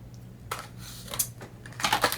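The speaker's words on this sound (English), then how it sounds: "I'm going to cut this down, and I always use my orange handled Fiskars scissors for ribbon" Orange-handled Fiskars scissors cut through ribbon in a few short, crisp snips, close and clear with no talking.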